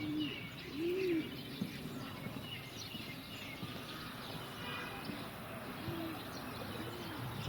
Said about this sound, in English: Got some pigeons up there.